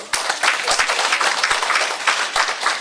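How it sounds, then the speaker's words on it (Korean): A small church group in a Korean-speaking gathering breaks into brief applause, a steady burst of many hands clapping close by for a few seconds with some sharper individual claps standing out. "오, 박수."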